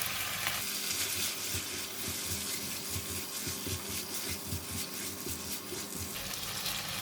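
Yee mee noodles stir-frying in a pan with bok choy, oyster sauce, chili bean paste and a little sesame oil give off a steady, close, loud sizzle with soft scraping stirs throughout.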